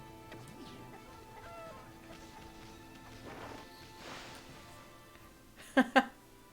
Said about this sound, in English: Now I'm going to carry a chicken around.